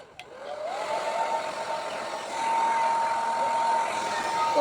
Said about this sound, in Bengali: এখন আমি চুলটাকে শুকাচ্ছি